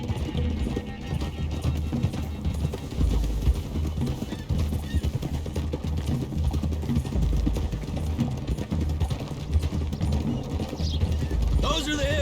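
Horses clip-clop steadily while being ridden in Red Dead Redemption 2, the hoofbeats running under a game soundtrack with low rumbling music throughout and a brief whinny-like sound near the end.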